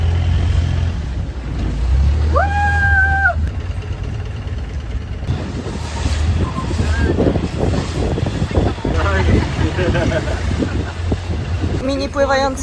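Motorboat engine idling and puttering close by as a boat pulls up at a small floating market, with wind buffeting the microphone, a tonal whistle or horn, and people talking over the engine noise.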